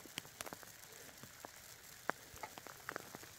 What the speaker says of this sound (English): Oh, no, okay, it's hail.